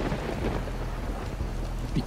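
Thunderstorm with heavy rain in a video game, a dense wash of steady rainfall over a deep continuous rumble of thunder, loud and unbroken for a couple of seconds with no voices.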